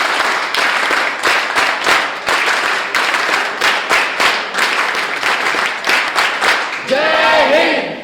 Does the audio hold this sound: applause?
yes